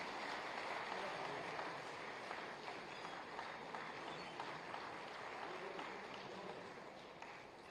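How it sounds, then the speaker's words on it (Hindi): A crowd at a silk expo awards ceremony claps continuously for a prize winner. The dense, even applause is heard from a distance and stays at a low, steady level throughout, with no distinct voices. "लगातार तालियों के बीच"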